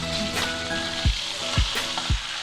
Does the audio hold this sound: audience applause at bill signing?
no